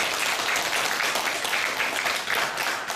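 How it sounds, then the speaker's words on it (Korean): A church congregation applauds together during a ceremony installing a pastor emeritus and sending out missionaries, a dense, steady round of clapping that fills the room for a few seconds. "우리 박수로 기도하도록"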